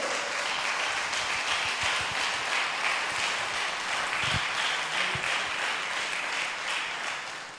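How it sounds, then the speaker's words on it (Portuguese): A church congregation applauds together in a steady, sustained wash of clapping that fills the room from start to finish, easing off only slightly at the very end. "Aplauda ao Senhor."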